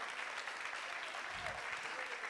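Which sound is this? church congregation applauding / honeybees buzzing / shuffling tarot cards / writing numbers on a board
church congregation applauding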